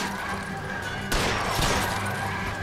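Gunfire erupts in the LA Noire video game, a sudden loud burst of shots and crashing impacts after a quieter stretch of ambient game sound, continuing as a dense volley.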